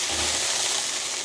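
Ribs sizzle in a drum smoker running near 275 degrees, a brief, steady hiss of fat and liquid crackling on the heat.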